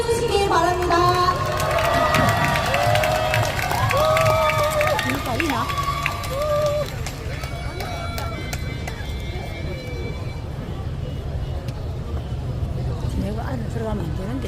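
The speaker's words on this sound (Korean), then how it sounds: "박수로 환대해 주시기 바랍니다." A crowd at a climate justice march rally in Busan cheers and claps for performers, with lively shouting, whistle-like calls and voices over a continuous hubbub, fading slightly toward the end.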